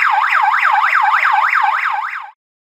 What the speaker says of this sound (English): Now you are ready to plug your siren back in and test it